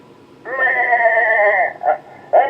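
A sheep lets out a long, wavering bleat up close, followed by two shorter bleats.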